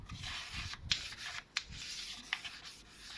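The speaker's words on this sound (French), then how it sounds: "je prends la petite brosse à dents. Je frotte un petit peu" A small toothbrush scrubs the rail of a window frame, giving soft, rhythmic rubbing strokes up close with a few sharper scraping ticks. No one speaks.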